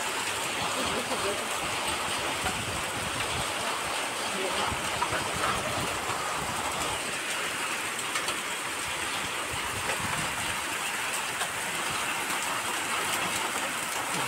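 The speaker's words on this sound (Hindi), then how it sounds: "बड़े बड़े ओले" A dense, steady patter of large hailstones pelting surfaces in Kota, Rajasthan, loud and continuous throughout without pause.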